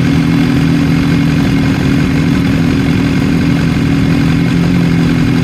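BMW S1000R Sport motorcycle from 2020, low-mileage and in great condition, its engine idling steadily with a low, even rumble and mechanical clatter, close and loud throughout with no talk.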